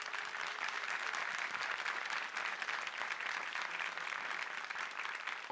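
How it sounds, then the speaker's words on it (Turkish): Sustained, dense applause from a concert audience at a Crimean Tatar folk music and dance concert in Ankara, steady and even throughout with no voices over it. "bu alkışlar devam edecek"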